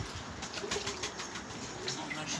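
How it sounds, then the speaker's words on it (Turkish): Pigeons take off and fly close by, a flurry of rapid wing flaps with soft cooing mixed into the busy outdoor background. "Kuşlarımız uçuyor"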